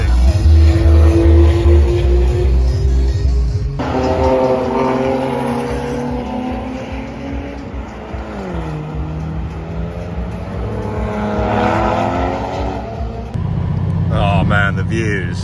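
Race cars racing at the Nurburgring, engines droning and rising in pitch as they pass, with shifting revs and a new car surging near the end, under a steady bed of sound.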